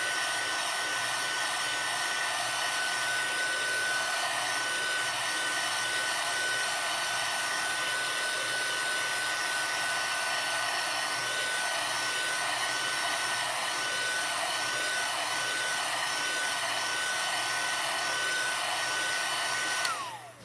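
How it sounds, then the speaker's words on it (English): A craft heat tool blows hot air onto a foam stamp in one steady, loud, continuous whir lasting about twenty seconds and cutting off abruptly at the end. "all I'm going to do is heat it, and you want to keep your heat tool moving."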